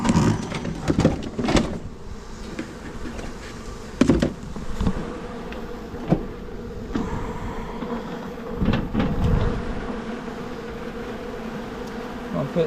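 Honeybees captured from a hive inside a porch column buzz steadily and densely throughout, a close, continuous swarm drone with a few louder passes near the microphone.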